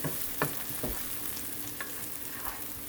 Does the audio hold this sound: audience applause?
no